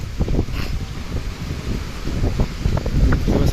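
Strong Cyclone Remal winds at Sadarghat, Dhaka: loud, gusty wind buffeting the microphone in continuous low rumbling bursts.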